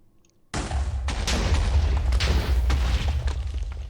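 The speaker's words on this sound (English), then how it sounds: "I did not know gravel behaved that way if it was falling and then it experienced an explosion." A loud TNT explosion in Minecraft bursts in suddenly after a quiet start and rolls on as a sustained, booming rumble with crackling peaks, with falling gravel nearby.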